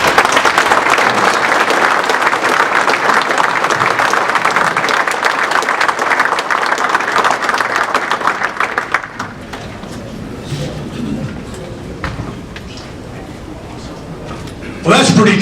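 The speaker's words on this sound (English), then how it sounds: "I already got a round of applause" A seminar audience gives a loud, sustained round of applause for a speaker at a hardscape event, dense clapping that drops sharply to scattered claps and room murmur before a voice begins to talk.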